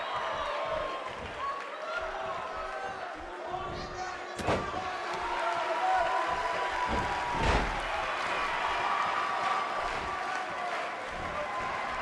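Tokyo arena crowd in the WWE 2K18 wrestling video game, a sustained roar of cheering with a couple of sharp slams from the ring cutting through it.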